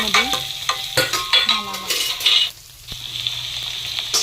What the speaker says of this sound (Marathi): मंद गॅसवरती कांदा चांगला सोनेरी रंग येऊपर्यंत परतून घ्यावा.